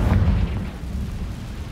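Hogwarts Legacy's Confringo spell detonates as a loud, booming explosion with a deep low-end rumble, strongest at the start and then rolling off into a sustained crackling tail.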